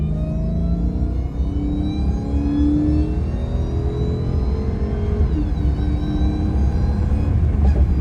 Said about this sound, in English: right now, we're about to go see how a Hellcat sounds